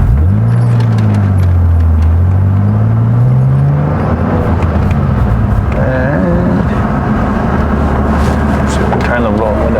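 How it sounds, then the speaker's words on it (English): A BMW Z3 drives down the road, its engine note rising and falling through the gears in a steady droning whir, heard from inside the car with someone talking over it. "let's take it for a little spin down the road in my little Z3"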